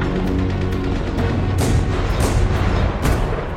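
Artillery fires a barrage of high-explosive and mustard gas shells in a World War I battle at Villers-Bretonneux: a continuous rumble broken by several sharp, loud booms, dense and close, with no voices.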